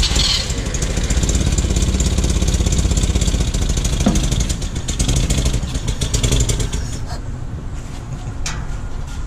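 A small engine idles loudly nearby with a rapid, uneven putter and rattle that steadies slightly as it runs.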